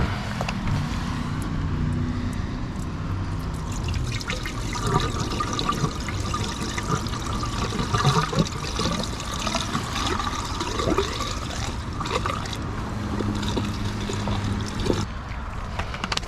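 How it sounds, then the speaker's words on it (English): Washer fluid pours and gurgles into the windshield washer reservoir of a Ford Transit 250 van, a continuous watery trickle with light rain dripping nearby and occasional soft clunks, no talking. "now we can fill it back up with washer fluid and test it out"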